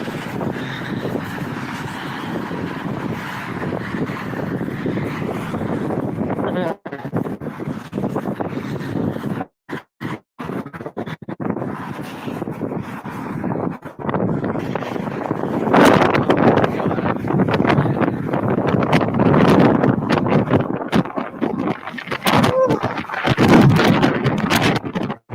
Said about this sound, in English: The wind is attacking again.